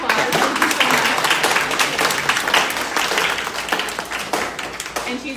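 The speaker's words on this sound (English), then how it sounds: "We'll give Jennifer a big round of applause." An audience applauds after an artist's lecture at a gallery, a dense sustained burst of many hands clapping, close and loud, fading slightly toward the end.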